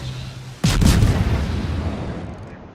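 A single heavy boom of naval guns firing in a warship video game, sudden and loud, with a long rumbling tail that fades over a couple of seconds.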